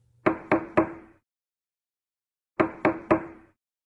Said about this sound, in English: A knock came on her door.